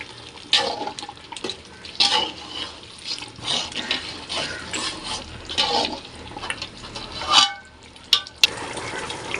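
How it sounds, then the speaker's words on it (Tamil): Ghee being stirred into chicken biryani in a pot gives continuous scraping and sizzling with wet clattering strokes and a few sharper knocks of the spoon against the pot, close and without talk. "நல்லா நம்ம கிளறி நல்லா விட்டுக்கலாம்."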